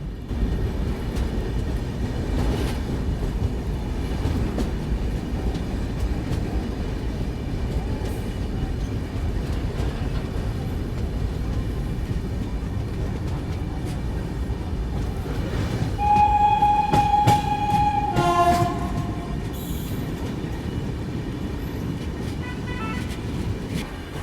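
Passenger train rolling over the Godavari river bridge in India, a loud continuous rumble and rattle of carriages, with a short horn blast partway through and no voices.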